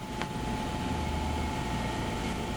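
Ares Seiki CNC drilling and tapping center from 2008, with a Mitsubishi control and BT30 Big Plus spindle, running as a steady, quiet machine hum with a faint constant tone and no other events.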